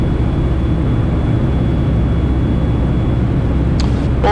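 Light aircraft doing a touch and go, a loud steady drone of the engine and airflow filling the whole stretch with little change, a faint brief tone near the end.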